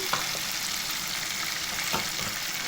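Fish fillets fry in hot oil in a pan for a spicy fish curry, giving a steady, dense sizzle throughout with a few brief stirring scrapes.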